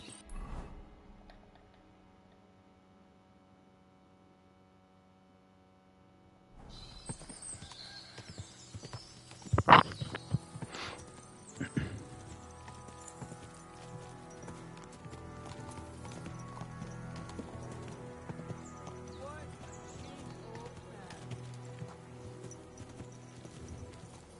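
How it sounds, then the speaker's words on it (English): Horses clip-clopping on a hard surface in the video game Kingdom Come: Deliverance II, rhythmic hoofbeats with creaks and a few louder knocks, following a quiet opening with low background. "What a lot of horses! They must have cost a fortune."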